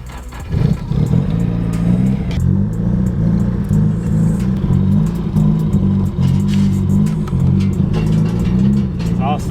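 Engine of a rebuilt Nissan 180SX rumbles steadily and loudly close by as the car drives off, with a low throaty exhaust tone and faint voices underneath.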